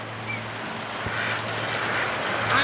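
Heavy rain storm pours down around a duck barn, a steady, loud, broadband hiss that continues without pause and swells slightly toward the end, with no voices.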